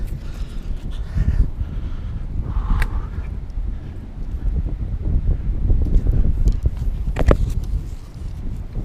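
Steady wind rushes and buffets around a climber high in a tree, with leaves and branches rustling and a few faint knocks and creaks, and no talking.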